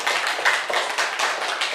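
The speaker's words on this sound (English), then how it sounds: "Give a good clap for him." A classroom of children gives a short burst of clapping for a classmate, light and scattered hand claps, fairly quiet and close.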